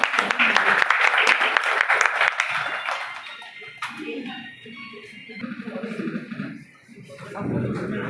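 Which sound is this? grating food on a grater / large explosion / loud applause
loud applause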